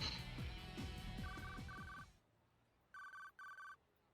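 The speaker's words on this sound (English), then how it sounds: "Hachi's cell phone rang." A cell phone rings in the game 428: Shibuya Scramble as two short electronic trills over music. Two more bursts follow after the music cuts out, leaving the ringing alone and clear.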